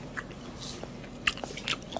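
Horse mackerel (jack) sushi, aged 48 hours, being chewed close to the mouth: soft, moist bites and smacking clicks scattered over about two seconds, faint and intimate with no talking.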